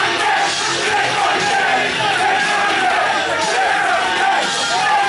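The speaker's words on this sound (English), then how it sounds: "Crowd goes insane chanting Nick fucking Gage" A wrestling crowd at an IWA Mid-South show chants and yells for Nick Gage, a dense, loud roar of many voices with rhythmic surges, sustained without a break.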